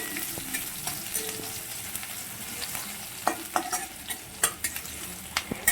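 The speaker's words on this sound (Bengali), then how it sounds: "পেঁয়াজটা রসুনটা দিয়ে দিচ্ছি, দিয়ে ভালো করে নেড়ে চেড়ে নেব" Onion and garlic fry in a pan under a steady sizzle while a spatula stirs them, with scattered sharp scrapes and taps that grow more frequent toward the end, close and clear.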